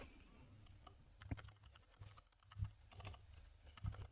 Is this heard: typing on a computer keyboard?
yes